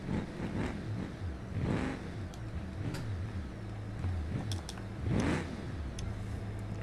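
A truck engine in a BeamNG driving game revs repeatedly, rising and falling in pitch through several throttle bursts over a steady mid-range drone, close and alone.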